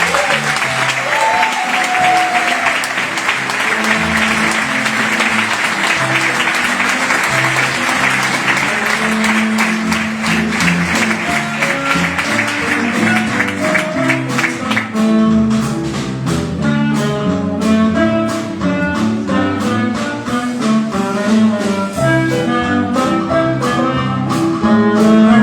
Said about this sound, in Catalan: Un fort aplaudiment per Laia Pérez.